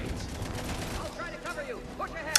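Enemy turrets fire in Mass Effect 3 in a dense, continuous stream of gunfire and bursts, with a sharp crack near the end.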